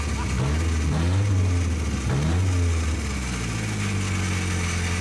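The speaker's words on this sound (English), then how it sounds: "This truck is freaking awesome. Now it's making a very scratchy sound." A truck engine revs in a steady, loud run, pitch rising and falling through a few surges before settling into a rough drone, with a voice heard faintly at points.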